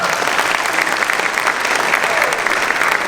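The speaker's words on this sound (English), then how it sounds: "round of applause" A crowd at a home building company's 30th anniversary celebration breaks into loud, dense applause, a continuous even roar of clapping close by for the whole stretch.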